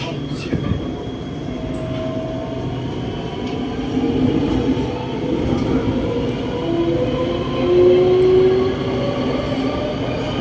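An SRT Red Line electric train picks up speed, its rumble rising with rail squeal and faint whining tones building over several seconds while a voice talks over the ride.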